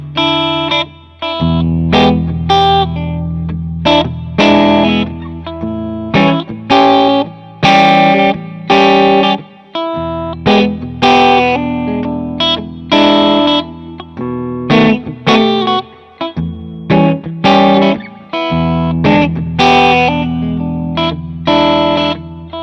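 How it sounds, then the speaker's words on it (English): A Gibson Custom Shop '59 Les Paul Standard reissue electric guitar plays through a Tube Screamer overdrive, loud distorted chords and riffs in a choppy rhythm with short pauses between phrases, no voices. "I just grabbed this guitar and plugged it to a tube screamer"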